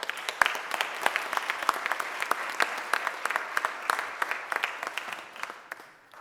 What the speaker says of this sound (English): Give a round of applause for Cheryl Harper.